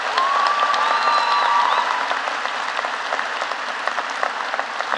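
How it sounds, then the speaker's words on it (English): An audience at a high school graduation ceremony applauds honored students. The clapping is sustained and even, and a high whistle or cheer sounds briefly near the beginning. "Please, round of applause for these students and their efforts."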